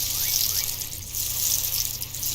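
A watering can sprinkles water over wheat in the farming game Dinkum, a soft steady hiss of pouring liquid that lasts throughout, faint and without talk.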